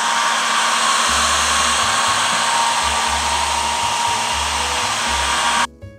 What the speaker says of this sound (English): let's go ahead and blow some hot air on the PS3